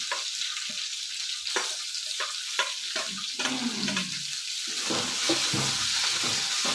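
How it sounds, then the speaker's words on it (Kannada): Onions and coriander leaves sizzle and crackle steadily in a hot pan for a jackfruit seed stir-fry, close and constant, with occasional scraping stirs. "ಈಗ ಈರುಳ್ಳಿನ ಹಾಕ್ಕೊತೀನಿ ಕೊತ್ತಂಬರಿ ಸೊಪ್ಪು ಹಾಕ್ತಾ ಇದ್ದೀನಿ"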